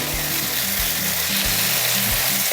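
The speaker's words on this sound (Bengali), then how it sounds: "দু তিন মিনিট ভেজে নেব নেড়ে চেড়ে" Chicken bhuna masala frying in a pan while being stirred, a dense continuous sizzle with repeated low scraping knocks from the spoon at a steady rhythm, loud and close.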